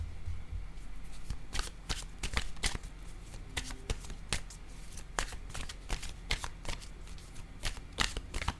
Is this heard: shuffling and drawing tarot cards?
yes